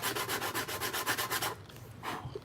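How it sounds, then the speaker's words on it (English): Hand sanding a resin Mandalorian helmet: about a dozen quick, even rasping strokes in a tight rhythm, a short pause, then one more stroke, soft and close. "I just do it in small little sanding spells."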